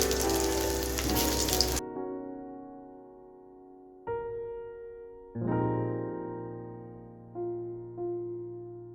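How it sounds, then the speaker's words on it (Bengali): Prawns fry in a pan with a loud, dense sizzle for under two seconds, then give way to sustained tonal, music-like notes for the rest. "চিংড়ি ভাজা"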